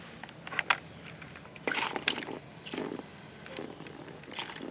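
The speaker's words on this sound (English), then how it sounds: "So we're gonna pour it in this cup, and this is why we have the straw." Water poured into a cup holding a straw, heard as several short splashing, gurgling bursts separated by quieter pauses, close and fairly soft.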